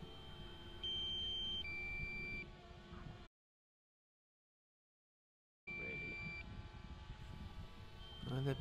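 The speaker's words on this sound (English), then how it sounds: "That beeping sound is a battery warning" Several short electronic low-battery warning beeps from a DJI Mavic Air drone sound in two bursts, separated by a stretch of silence, over steady background noise.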